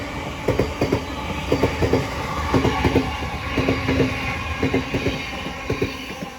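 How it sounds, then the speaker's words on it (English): A Class 707 train on a Southeastern service passes through New Cross station, its wheels giving a close, rhythmic clickety-clack over the rail joints above a steady rolling rumble. "As also coming through is 707 working a South Eastern service from London Charing Cross to Orpington."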